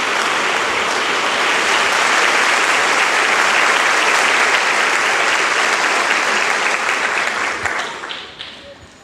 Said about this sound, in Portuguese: Pode aplaudir o Santíssimo Sacramento.